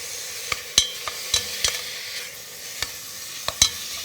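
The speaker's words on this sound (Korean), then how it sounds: "그래가지고 이렇게 볶으세요" Beef being stir-fried in a pot for Korean beef radish soup, with scattered sharp clicks and scrapes of a spoon against the pot over a soft sizzle, close and fairly quiet.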